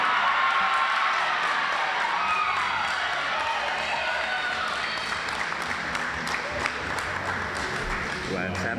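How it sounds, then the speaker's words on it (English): Crowd applauds and cheers at a 2021 ODAC women's basketball tournament, Lynchburg versus Roanoke, a dense steady wash of clapping with scattered whoops filling the arena from start to finish. "Let's have another round of applause for these fine student athletes"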